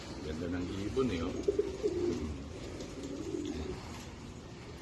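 Pigeons cooing softly in a loft, a few low throaty coos in the middle, faint and fairly close beneath a quiet background hum.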